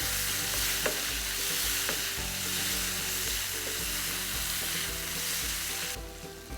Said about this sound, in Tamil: இந்த ஆனியன் கொஞ்சம் ஃப்ரை பண்ணி வரப்போ ஒரு பெரிய தக்காளி டைஸாக வெட்டி அதை அதில் ஆட் பண்ணிக்கிறேன்.